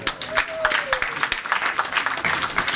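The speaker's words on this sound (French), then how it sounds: "Est-ce qu'on peut l'applaudir, mesdames et messieurs?" Dinner-dance audience applauding a band leader, scattered hand claps close by with a crowd clapping behind, moderately quiet, and a brief voice over the start.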